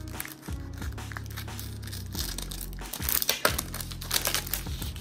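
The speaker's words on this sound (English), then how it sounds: "Oh my god, cutting through the photo card." Plastic packaging tape on a photo card package is cut and torn, giving a steady close crinkling and crunching with louder tearing rips toward the end, and no talk.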